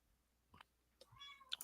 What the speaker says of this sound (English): Cat, not a baby.